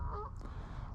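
Brief, faint honking call from a wild goose or similar waterfowl at a lake in Wales, a single short burst over a low background rumble of wind.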